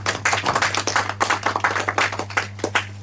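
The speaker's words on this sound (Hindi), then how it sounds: "तालियां रुकनी नहीं चाहिए।" Audience clapping at a junior quiz show ceremony, a rapid even run of claps near and moderately loud over a steady low electrical hum, with no voices.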